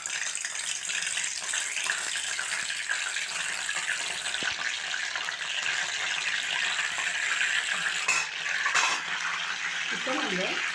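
Mint and curry leaves frying in hot oil for a crab fry, a steady broad crackling hiss throughout with a brief louder burst near the end, no voices.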